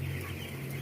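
Chickens housed in a colony rack cage coop, giving a brief, quiet burst of clucking over a low steady hum of the poultry house.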